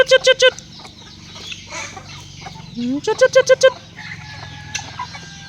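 Farm chickens cluck loudly and close by, in quick rhythmic bursts of sharp calls with quieter murmuring between them.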